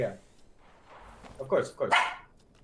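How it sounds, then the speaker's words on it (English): A dog barks a few quick times in the background while someone talks nearby during a Fortnite session. "Oh, that's a dog."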